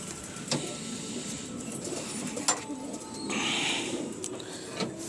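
Soft coos from frightened pigeons in a loft sound nearby amid quiet background noise, with a few faint knocks and rustles.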